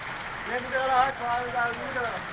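Dense, steady pattering of hail striking surfaces, continuous throughout, with a person talking over it.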